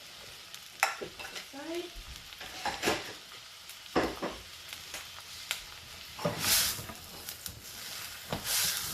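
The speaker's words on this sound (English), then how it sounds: "just let it saute a little bit, just so it gets a little bit of a buttery flavor" Chicken patty and mushrooms sautéing in salted butter in a pan, a soft continuous sizzle punctuated by sharp utensil clanks and scrapes; a voice speaks briefly.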